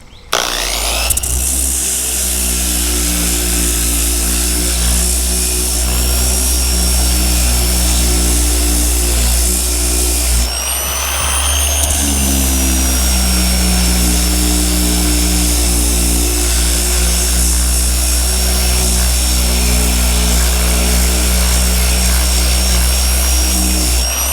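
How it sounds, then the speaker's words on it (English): A power tool, likely a DA sander, grinds surface rust off a Chevy Silverado cab corner with a loud, steady, droning whine. It stops and restarts briefly around the middle, and no one talks. "Remove that rust, the surface rust."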